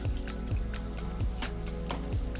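Water is poured into a pan in a restaurant kitchen to start a tomato consommé glaze, heard as a series of soft splashes and drips, with a low, steady kitchen hum underneath.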